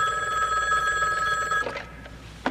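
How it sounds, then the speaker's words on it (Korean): A telephone rings steadily and fairly close for about a second and a half before the ring cuts off, leaving faint room noise and a brief knock near the end, in a dubbed X-Files-style mystery drama scene. "또다시 전화를 걸어온 바넷."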